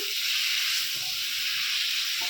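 Potatoes sizzle and hiss steadily in a hot pan with spices for an aloo dum curry, a continuous close frying sound with faint stirring scrapes beneath.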